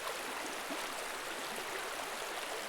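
A river in Costa Rica flowing with a steady, full rushing wash of water, continuous and even throughout with no other sounds.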